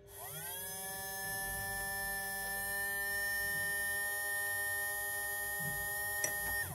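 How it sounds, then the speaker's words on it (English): A small electric pump motor in a NodeMCU greenhouse automation setup starts with a rising whine, then holds a steady tonal hum for several seconds, close and alone. "the motor will start now"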